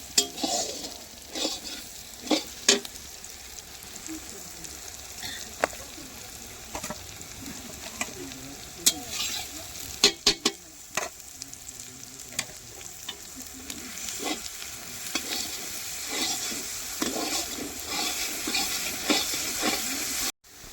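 Garlic frying in hot oil after ginger for a picnic dish, giving a continuous bright sizzle with scattered sharp clicks and scrapes from stirring, steady and close throughout.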